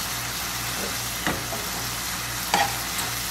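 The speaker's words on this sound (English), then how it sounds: "We're going to add in the turkey sausage mixture and we're going to cook it until it is completely cooked through." Turkey sausage mixture frying in a skillet for a breakfast casserole, a steady soft sizzle with a low hum beneath and a couple of sharper scraping stirs near the start and end, no voices.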